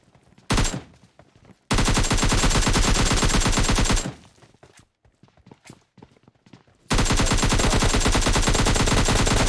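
Gunfire in the mobile battle royale game PUBG Mobile Lite, with loud sustained bursts of automatic fire separated by a quieter gap of scattered shots and clicks.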